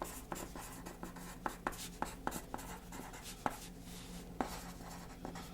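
A pen writes on paper at close range, producing soft scratchy strokes broken by light taps and small clicks at irregular intervals in a quiet room, with no talk.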